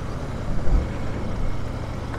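Steady road traffic with trucks and cars rumbling past on a rough highway between Hyderabad and Bengaluru, a continuous low drone with a brief louder swell, no voices.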